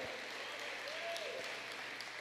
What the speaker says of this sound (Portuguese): Você pode aplaudir ao Senhor, pode glorificar o Senhor.